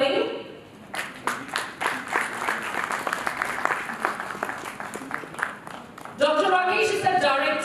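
An awards-ceremony audience claps steadily for an honored pharmaceutical guest, a broad wash of applause that rises and holds, followed near the end by a voice and music over the hall.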